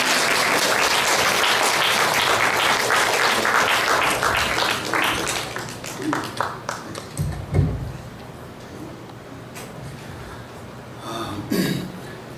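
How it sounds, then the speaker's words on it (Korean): A congregation at a Sunday afternoon church seminar gives loud, sustained applause to welcome the pastor. The clapping thins into scattered claps about halfway through, followed by coughs and light shuffling. "박수 한번 크게 하시죠"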